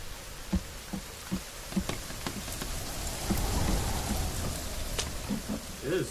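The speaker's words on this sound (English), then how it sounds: "It is so stormy lately." Rainstorm in the survival video game The Forest: steady rain hiss with scattered drop taps, and a low rumble that swells midway and then fades.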